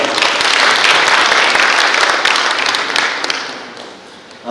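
An audience at a new-year town meeting with the mayor gives sustained applause, loud and steady for about three seconds before gradually thinning out and fading near the end.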